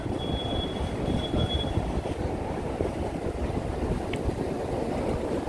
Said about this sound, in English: We hear subway down there.